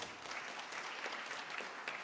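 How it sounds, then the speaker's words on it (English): Brief, soft audience applause at a conference presentation, a steady patter of clapping heard from some distance with no talking. "A round of applause"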